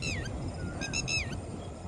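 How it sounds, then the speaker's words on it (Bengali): Several birds call over an open farm field, a few short honking, goose-like cries heard together against a steady background rumble. "পাখির শব্দ শোনা যাচ্ছে।"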